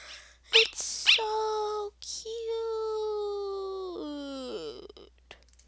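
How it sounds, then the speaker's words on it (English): Lesser Dog from the video game Undertale gives a couple of short yips, then a long sustained whine that bends downward before trailing off, loud and close with no other sounds around it. "Oh, it's a little dog. It's a lesser dog."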